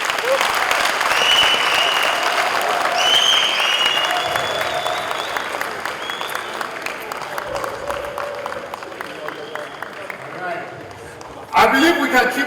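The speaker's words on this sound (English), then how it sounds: "I believe we can keep the applause rolling as they take the bow." Audience at a Nigerian football federation event applauding performers as they take a bow, sustained loud applause that gradually thins, with voices mixed in and a sharp burst near the end.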